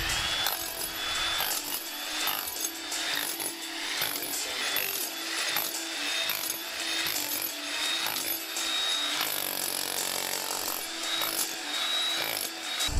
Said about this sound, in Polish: Na początek kucie czerwonej cegły przy pomocy dłuta płaskiego